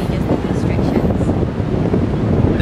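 Wind at a sunset spot in Bali buffets the microphone with a loud, close, continuous rumble that gusts unevenly throughout.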